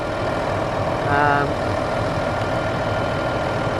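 A tractor pulling a power harrow motors on across a field, its engine a steady, close, loud drone with a brief rise in pitch, and a voice speaks over it.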